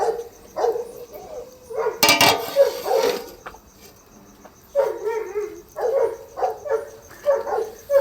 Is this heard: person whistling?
no